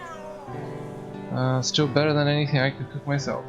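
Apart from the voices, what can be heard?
cat meowing, from video game Simulacrum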